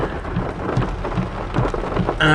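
Heavy rain pours down steadily in a dense hiss with deep rumbling underneath, loud and close, continuing without talk and with a brief burst of other sound at the very end.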